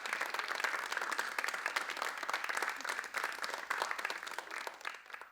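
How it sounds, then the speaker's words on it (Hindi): Audience applause at a Durgotsav 2023 festival dance programme, steady dense clapping from a sizeable crowd held at an even level throughout with no voices rising above it. "तो ज़ोरदार तालियों के साथ"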